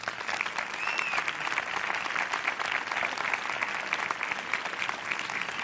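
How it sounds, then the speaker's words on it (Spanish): An audience applauds at a public talk event held with digital communications staff of the Museo del Prado, a steady, dense wash of many hands clapping at full volume throughout. "Un aplauso para ellos."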